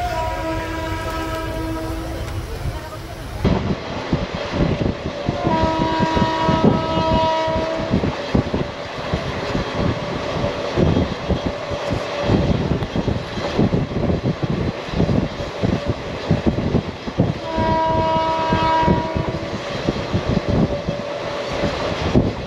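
Moving crowded passenger train on the way to Vijayawada: steady, loud rail rumble and rattling carriage noise throughout, with tonal whines and squealing wheel or horn-like tones rising at intervals, no talk.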